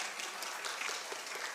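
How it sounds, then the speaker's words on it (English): Audience at a Bernards Township school board meeting applauds a police officer, the school resource officer; steady, dense clapping fills the short stretch, moderately distant in a large room. "you can applaud for him"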